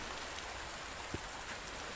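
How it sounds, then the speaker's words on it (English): Rain falls steadily in an outdoor scene of the alien-world survival game Under A New Sun, a soft, even hiss of drops on the ground with one faint low thud partway through. "oh shoot, it's raining"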